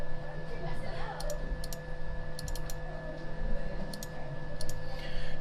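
Sharp computer mouse clicks come in small clusters while working on a high stool design in SketchUp, close and crisp over steady room hum and background noise.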